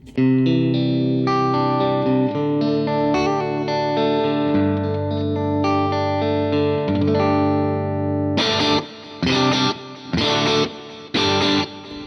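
An electric guitar plays sustained chords with a wide, shimmering delay and reverb tail, then several short strummed bursts ring out with echoing decay.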